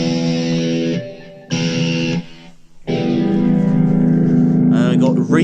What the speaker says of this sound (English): So you can have super crunch, and then maybe have a delay on it